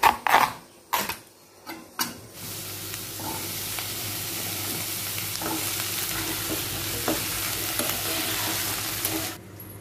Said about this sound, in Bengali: ডালের সাথে একটু মিষ্টি কুমড় ভাজি করুম